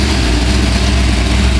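A 302 V8 engine rated at 300 horsepower idling on a test run, a loud, steady, close rumble with an even low throb and no talk.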